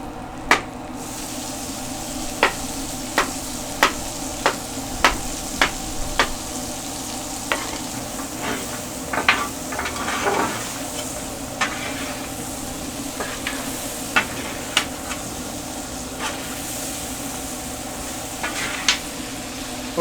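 Fresh garden zucchini cooking on a hot surface, a soft steady sizzle under a stream of sharp clicks and scrapes from a utensil moving the pieces around, no voices.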